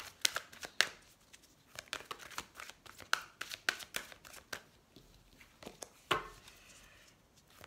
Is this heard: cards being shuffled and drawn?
yes